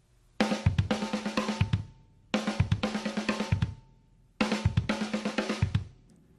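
Three identical bursts of a drum pattern split between snare and kick drums, each about one and a half seconds long and separated by short gaps, with crisp rapid snare hits alternating with pairs of kick thumps, played alone.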